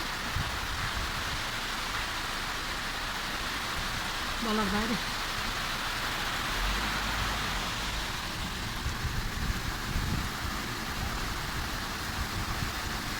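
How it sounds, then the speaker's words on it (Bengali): Heavy monsoon rain pours steadily at midday, a dense, continuous hiss that fills the whole stretch at even loudness while a voice talks briefly over it. "প্রচুর বৃষ্টি হচ্ছে আজকে"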